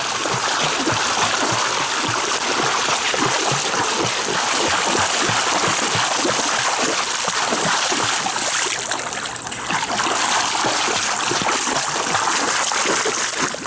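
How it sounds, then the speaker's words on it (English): A swimmer doing a flutter back kick in a pool churns the water into continuous rapid splashing and sloshing close by, with a brief dip in the middle. "Let's see your back kick, Cohen."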